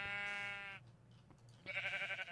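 A sheep trophy in Minecraft's Agrarian Skies modpack gives two close, clear bleats: a long, steady one, a short pause, then a shorter wavering one.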